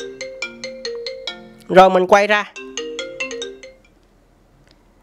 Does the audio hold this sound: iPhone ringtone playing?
yes